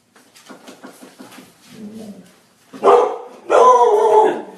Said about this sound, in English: Pardon the dog there for a second.